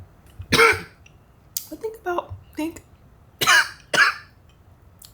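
Several harsh, close coughs and throat clearings come in short bursts from one person, separated by brief pauses, with a single spoken word mixed in.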